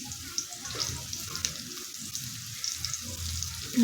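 Green chilies sizzle and fry in hot oil while being roasted until blistered, for sabudana khichdi: a steady, moderately quiet crackling hiss with soft stirring scrapes throughout.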